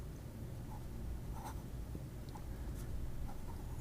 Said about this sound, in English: And let's do some writing.